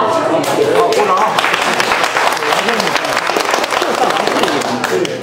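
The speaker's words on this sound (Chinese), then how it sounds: "好，鼓掌。" Applause from a crowd at a fishing club's fish banquet in a Chinese restaurant in Atlanta: dense, steady clapping that runs the whole time, close and loud, with voices mixed in.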